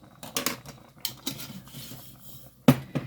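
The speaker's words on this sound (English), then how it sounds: "And then I'm going to stir this together and check my salt" Vegetable soup being stirred in a pot on a stovetop, with several sharp clanks and scrapes of a spoon against the metal pot in an irregular rhythm, close and clear with quiet gaps between.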